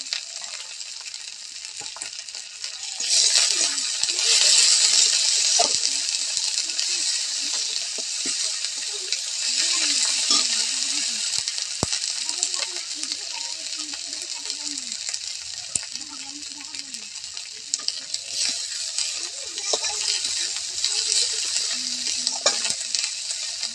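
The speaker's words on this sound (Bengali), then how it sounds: "মশলাটাকে ভালো করে নাড়াচাড়া করে ভেজে নেব" Spice paste stirred and fried in a pan, a continuous sizzle with repeated scraping and clinking of a spoon against the pan, while someone talks intermittently over it.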